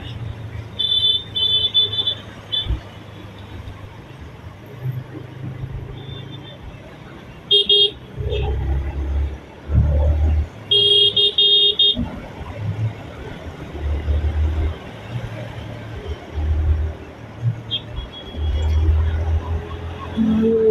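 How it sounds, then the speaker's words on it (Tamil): Heavy road traffic crawls along with cars and motorbikes idling and revving, broken by several sharp car horn toots, some doubled, loud and nearby, while someone talks over it. "இங்கேருந்து பயங்கரமாக டிராஃபிக் ஸ்டார்ட் ஆகும்"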